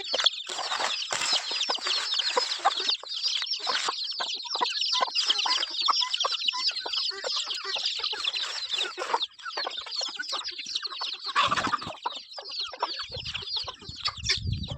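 Young chickens, three to four months old, cluck and chatter nonstop while feeding, a dense, close flock of overlapping calls with occasional scratchy peeps and shuffles.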